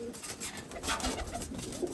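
Pakistani flying pigeons in a loft coo softly in short, overlapping throaty notes, close by against a busy background hum.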